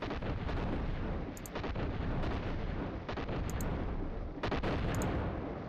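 A grenade goes off in a video game amid a run of heavy booming blasts and crackling rumble, loud and continuous with several sharp peaks, no voices over it.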